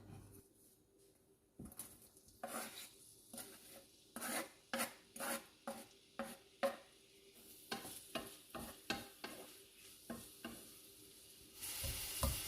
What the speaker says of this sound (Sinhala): ඉතින් මේ ලුණු ටික රන්වන් පාට වෙනකම් බැද ගන්න ඕන